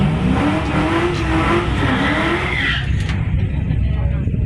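An old Ford Mustang engine roars hard and revs, pitch climbing under load before dropping off, loud and close with a brief tire squeal.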